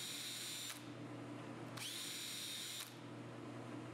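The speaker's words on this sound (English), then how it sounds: "which is a self-centering drill bit designed for installing hinges" A power drill drives a self-centering VIX bit for hinge holes in wood for a blanket chest, two bursts of high whirring separated by a brief pause, steady and close over a low hum.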